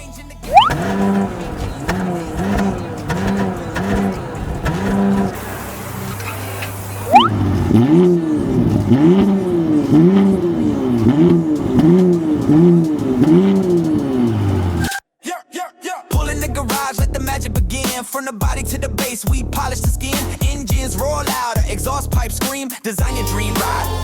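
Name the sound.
Porsche Cayenne SE exhaust revving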